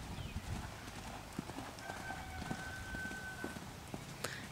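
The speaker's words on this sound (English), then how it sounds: "All right, canter him on." Hooves of a hunter pony thud in a steady cantering rhythm on soft ground, moderately distant, with faint background noise and a brief voice.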